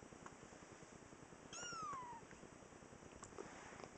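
A single high, drawn-out meow from a three-week-old kitten rises and falls over steady low background noise, close and clear.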